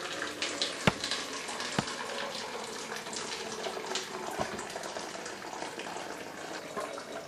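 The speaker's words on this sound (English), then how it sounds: "We need to pour our very, very hot water inside our 2-liter soda bottle." Very hot water poured into a 2-liter plastic soda bottle, a steady gurgling splash with a few sharp knocks and taps of the bottle along the way.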